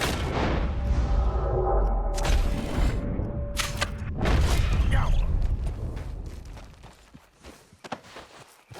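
Gunfire aimed at rabbits in the video game Red Dead Redemption 2: a couple of sharp, booming shots ring out over busy in-game ambience, footsteps and movement, then the scene settles into quieter rustling.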